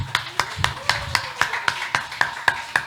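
Audience applause at a talk, heard as a steady run of evenly spaced, sharp claps about four per second, fairly close and moderately loud, with no talking over it.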